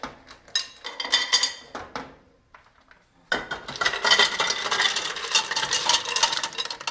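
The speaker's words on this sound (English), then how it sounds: "Let's add the clams and the mussels all together inside." Clams and mussels tipped into a pot on a high-flame stove, a run of hard clattering shell clinks and rattles, then a denser sustained shaking clatter of shells against metal.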